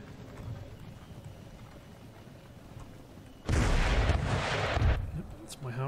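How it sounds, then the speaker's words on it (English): Howitzer artillery fire during a siege battle in Empire: Total War, a heavy burst of rumbling, crackling blasts erupting over a lower battlefield din of hooves and distant gunfire. "That's my howitzers coming in."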